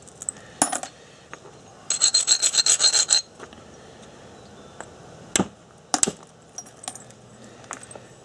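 Stone knapping to thin a Thebes style point: sharp clicks and scraping taps of a tool on stone, with a rapid burst of rasping abrading strokes followed by scattered single close percussive hits.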